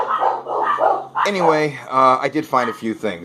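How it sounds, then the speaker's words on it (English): Several dogs bark and yip in the background at someone they think they hear, sharp repeated bursts mixed with someone talking over them. "sorry about the dogs barking in the background"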